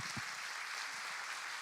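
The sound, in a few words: audience applause, clapping hands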